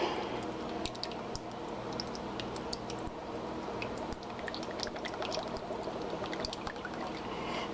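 Evaporated milk pours steadily from a can, about half full, into flour for a sweet potato pie, a continuous soft liquid stream with faint ticking clinks, no talking.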